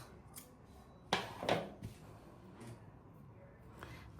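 Scissors snip through crochet yarn at close range. Two quick, crisp cuts stand out over a quiet room background.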